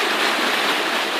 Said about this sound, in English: Nice little spot this, some nice fast water